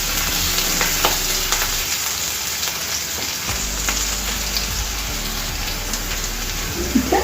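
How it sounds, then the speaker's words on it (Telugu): Bitter gourd fry ingredients sizzle in a pan, a continuous close frying hiss with occasional stirring clatter and a low rumble underneath. "ఒక 2 నిమిషాలు, 1 నిమిషం పాటు ఇది వేయించుకోవాలండి"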